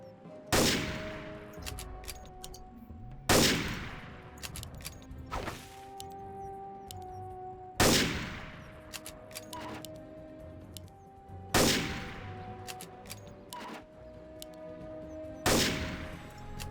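Heavy rifle shots crack out one at a time at steady intervals against a dinosaur in the Carnivores World hunting game, each loud report followed by a ringing decay.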